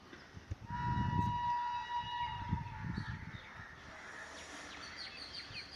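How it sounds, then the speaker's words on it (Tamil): Train on the busy Coimbatore to Palakkad railway line near Ettimadai station, a faint low rumble that swells and fades, with high steady whistle-like tones and bird calls over it, no voices. "அடுத்து ஒரு ட்ரெயின் வருது."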